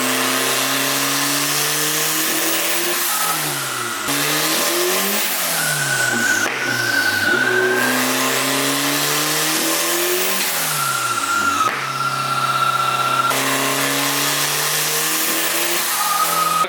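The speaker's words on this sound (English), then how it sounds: "Okay, that was some crazy dynoing." Honda S2000 engine revving hard on a dyno, loud and close, climbing through the gears with repeated rising pitch sweeps and brief drops at shifts, sustained throughout with no talking.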